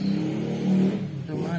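A Samsung refrigerator compressor that had been stuck starts running again, giving a steady low electric hum close by that wavers slightly over a second or two.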